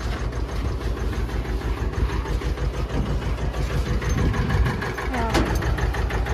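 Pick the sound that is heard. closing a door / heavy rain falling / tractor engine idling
tractor engine idling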